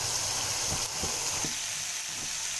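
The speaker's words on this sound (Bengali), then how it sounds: "তো আমি এখানে মাছ ভাজতে দিয়েছি।" Chapila fish frying in a pan with a bright, steady sizzle of hot oil, broken by a few soft low knocks of the pan or utensil.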